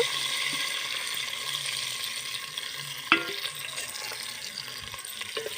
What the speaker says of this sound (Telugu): ఉల్లిపాయ కాస్త వేగింది